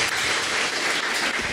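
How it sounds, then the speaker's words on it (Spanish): Church congregation at a Spanish-language worship service bursts into applause, a brief, dense and loud wash of many hands clapping together with no talking over it. "Dale un aplauso al Señor"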